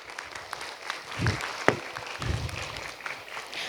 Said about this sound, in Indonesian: Boleh dong tepuk tangannya buat kita semua.